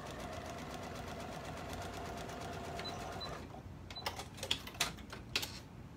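A sewing machine runs a straight stitch on fabric with a steady, close mechanical whir, then shifts into a few quicker clacking bursts toward the end.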